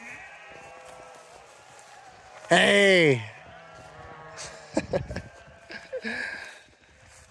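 A sheep lets out one loud, wavering bleat, followed by a short shout and some fainter outdoor noises.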